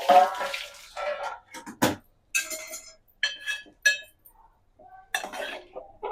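Hot steaming water is drained from cooked ridge gourd peel in a metal vessel, giving irregular pouring splashes mixed with clinks and knocks of the pot and lid.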